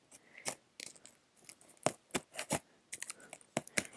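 Fabric scissors snip repeatedly at a package, a string of sharp, close crisp cuts and plastic crackles arriving in irregular bursts with short pauses between them.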